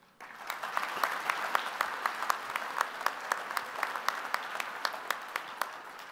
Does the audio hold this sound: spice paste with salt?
no